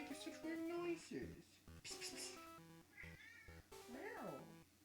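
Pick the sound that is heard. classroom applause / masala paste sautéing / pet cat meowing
pet cat meowing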